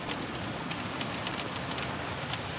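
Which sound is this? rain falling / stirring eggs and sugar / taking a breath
rain falling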